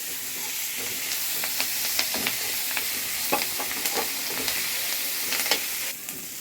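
Food sautéing in a pan for a traditional old-style home-cooked dish, with a steady sizzle and repeated scrapes and clinks of stirring close by, no talking.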